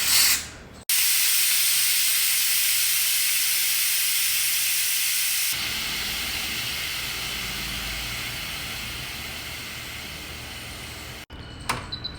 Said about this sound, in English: So we will quick release this pressure. Carefully turn the vent pressure valve to the vent position.